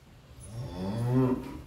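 A Limousin bull over a year old lets out one long, low moo in a cattle barn, swelling and then fading, close and clear with no talking.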